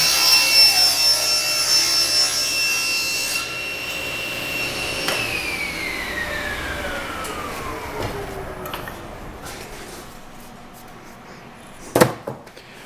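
Spindle of a new CNC router spinning down after cutting wood, a whining tone that slides steadily lower over several seconds under a broad noisy hiss, ending with a short sharp knock.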